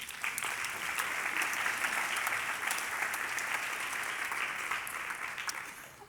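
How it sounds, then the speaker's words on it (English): Sustained audience applause at a New School immersive media research showcase, a dense steady roar of many hands clapping at even loudness throughout, with no voices over it. "Let's give them all a round of applause"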